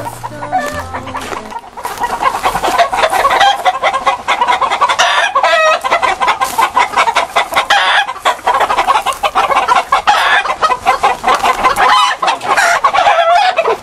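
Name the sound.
rooster clucking and crowing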